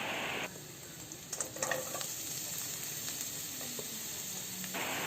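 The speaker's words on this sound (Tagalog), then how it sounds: "Halu-haluin lang natin ito hanggang sa maluto ang bawang at sibuyas." Onion and garlic sauté in a pan for chicken adobo in coconut milk, giving a steady close sizzle throughout with a few brief stirring clinks near the middle and no talking.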